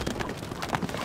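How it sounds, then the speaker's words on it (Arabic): Hooves clip-clop in a quick, steady rhythm as a horse gallops in a medieval strategy video game, loud and close over a busy game soundscape. "الحصان سريع."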